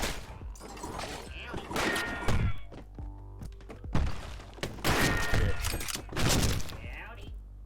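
Blunderbuss shots in the video game Stick It To The Stickman: a run of heavy booming blasts with crunchy impacts and clatter, repeated every second or two, amid busy game effects.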